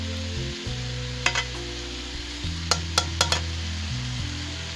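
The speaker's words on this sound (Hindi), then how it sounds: "अब इसकी भुनाई करूँगी" Okra and spinach frying in a pan and being stirred, a continuous close sizzle over a low hum, with a handful of sharp scraping clacks of a spoon against the metal, no voices.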